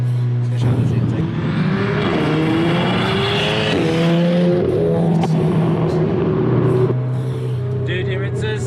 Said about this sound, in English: Hope you guys can clearly hear the screamer pipe on this thing.